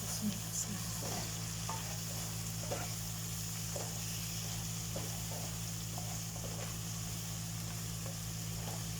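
Chicken macaroni ingredients are stirred in a frying pan, with a steady sizzle, soft scraping strokes repeating at intervals, and a low constant hum in the background.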